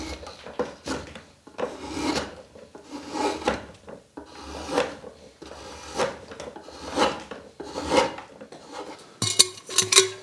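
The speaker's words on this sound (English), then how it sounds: "We're actually shaving down across the growth ring at this point. And she just slices." A blade shaves down across the growth rings of wood in repeated close rasping strokes, roughly one per second, each a scraping slice, with a brief sharper clatter near the end.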